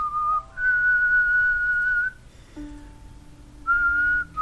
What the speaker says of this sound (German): Er drehte sich leicht seitlich und pfiff eine kurze, aber sehr schöne Melodie.